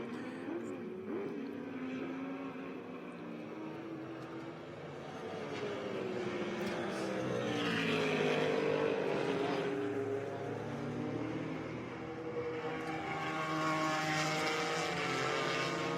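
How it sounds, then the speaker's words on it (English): Vintage race cars, including an All-American Racers Toyota GTP prototype and a Lola, roar around the track at the Monterey Motorsports Reunion, a steady engine drone rising and falling as cars pass, with a commentator talking over it. "Rocky Moran Jr. in that number 98 All-American Racers Toyota GTP car, your leader"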